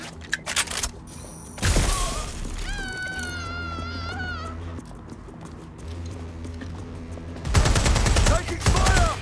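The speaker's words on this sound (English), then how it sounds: "Suspect has opened fire!" Gunfire and chaotic action in the video game Watch Dogs Legion, with loud bursts at the start and end framing a stretch of music and a whistling game effect in between.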